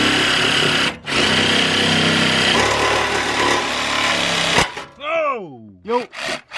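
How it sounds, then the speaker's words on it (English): A saw cuts through the exhaust pipe beneath a Corvette, wedged between the flange and a frame support beam, giving a loud, steady grinding rasp for several seconds. It stops abruptly and is followed by a pitched vocal exclamation. "I need to slip the saw right in here in between this flange and that support beam on the frame"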